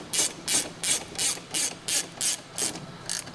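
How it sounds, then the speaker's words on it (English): A ratchet turns a 14 mm socket to tighten the axle nut on a Buddy scooter, giving nine quick, evenly spaced bursts of clicking pawl, close and steady with no talk. "go and thread the nut on, and we'll get the 14 millimeter on there"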